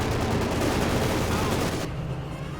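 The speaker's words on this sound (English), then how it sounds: "The Panzer IV rotates, machine guns blazing." Panzer IV tank machine guns fire in the Company of Heroes 2 video game, a loud, dense, continuous rattle of gunfire that carries on without a break and eases slightly toward the end.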